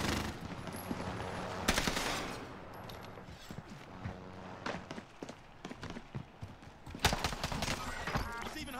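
Gunfire crackles in a video game battle on the Rebirth map: sharp bursts and scattered single shots, loud and close, with quieter stretches between volleys and voices talking underneath.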